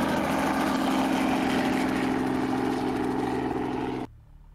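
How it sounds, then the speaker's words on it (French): A helicopter flying low overhead, its steady whirring drone likened to a flying lawnmower, stays loud and constant for about four seconds and then cuts off abruptly. "Et vous voyez passer un hélicoptère"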